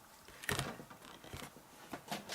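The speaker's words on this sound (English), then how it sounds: "Now I'll take the 1 3/4 inch punch, and I'm going to punch through 2 layers all the way in." A 1 3/4 inch paper punch presses through two layers of cardstock, making a few close mechanical clicks and crunches, with a sharp snap near the start and lighter clacks after.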